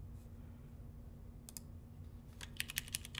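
Typing on an ABKONCORE AR87 mechanical keyboard with Cherry MX Brown switches, one of them a bad switch that ticks: faint, sparse clicks at first, then a quick burst of close keystrokes near the end.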